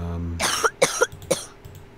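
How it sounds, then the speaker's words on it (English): A short burst of several harsh coughs in quick succession, close and fairly loud, following a brief low hum. "Just have a little bit of a cough, that's all."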